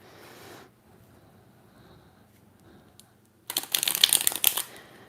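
A quick, loud riffle-shuffle of tarot clarifier cards, a dense papery flutter of about a second and a half that follows a long stretch of quiet room tone.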